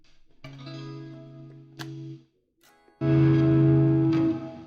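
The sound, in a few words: electric guitar with too much distortion effect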